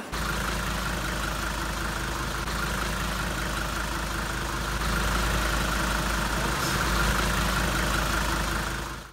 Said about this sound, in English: this proved to be one of the best diesel engines ever made, and many of you will agree, but they have a unique sound.